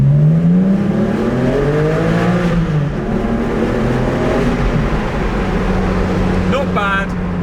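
Porsche 718 GT4 with a manual gearbox revving hard in a road tunnel, loud rising and falling engine harmonics echoing off the walls, with shifts between gears and a brief crackle near the end.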